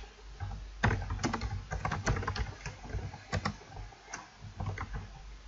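Steady, quick typing on a computer keyboard while entering C++ code, with close, crisp key clicks in uneven bursts and short pauses, heard alone with no talk.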